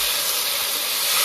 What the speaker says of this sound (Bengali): নেড়ে চেড়ে নিয়েছি, সামান্য একটু জল দিয়ে দেবো।